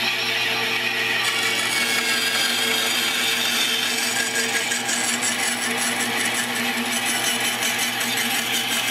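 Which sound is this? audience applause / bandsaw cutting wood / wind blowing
bandsaw cutting wood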